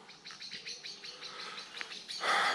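Kookaburras call in an ancient English oak woodland, giving a rapid series of short, bright squawks that repeat in quick rhythm at moderate distance and build to a louder burst at the end, with no talking.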